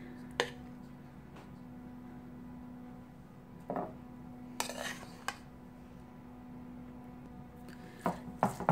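Cooked rice being mixed into a curd mixture, heard as a few scattered spoon-on-bowl clinks and scrapes over a steady low background hum, with quiet gaps between the knocks.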